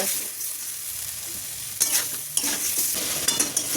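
Tomato and spice masala frying and being stirred in a pan for a koi fish curry, a steady close sizzle with scraping stir strokes growing busier in the second half, no voices.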